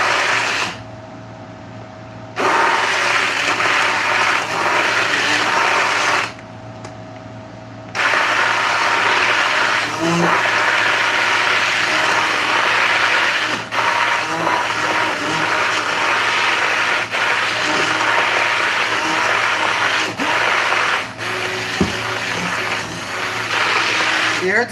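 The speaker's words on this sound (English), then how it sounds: "You hear it's grinding, it's because it's really working to get that tallow down there." A blender grinds beef tallow with oat milk and honey for soap, a steady dense whir that runs throughout at close range, briefly dipping twice early on, with a voice talking over it.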